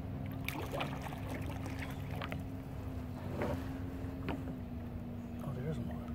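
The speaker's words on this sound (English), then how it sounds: "Oh, there is a motor." A low, steady motorboat engine drones on throughout as a boat passes on a river, with water sounds and some voices over it.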